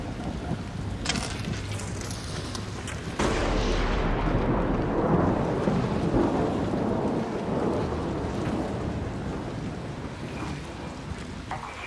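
Heavy rain hisses steadily as a deep thunderclap booms and rumbles on, the downpour growing louder after the crack.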